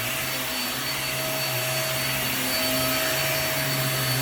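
A premium household vacuum cleaner runs continuously at close range, a loud steady whine with a constant motor hum that swells a little toward the end.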